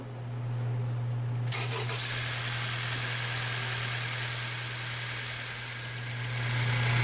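A 1.5L Honda CR-V engine cranks and catches, then settles into a steady, close idle with a constant low hum and a slight rise in volume near the end.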